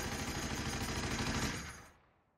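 Rifle fire in the Attack on Titan anime, a loud, dense burst of gunfire that sustains for about two seconds before cutting off abruptly into silence.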